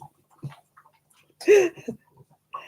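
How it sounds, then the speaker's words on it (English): A French bulldog snuffles and snorts through its short nose while eating treats, with soft close-up sniffs, a brief whiny squeak and small chewing noises in between quiet pauses. "she makes like a snuffling noise while she's eating"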